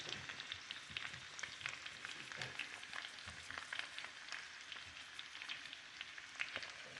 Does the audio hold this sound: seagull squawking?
no